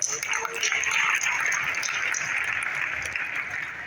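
A seated audience at a poetry gathering applauds in a steady wash of claps, moderately loud and sustained, with faint voices underneath.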